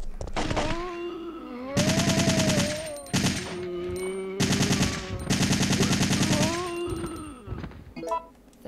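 Rapid automatic gunfire in Resident Evil 3, loud close bursts of shots lasting a second or two each, separated by short gaps with lingering tonal game sounds.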